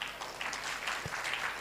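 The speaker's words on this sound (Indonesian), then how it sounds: "Tepuk tangan lagi" A church congregation applauds, a dense wash of many hands clapping at moderate distance, steady and fairly soft throughout the short stretch.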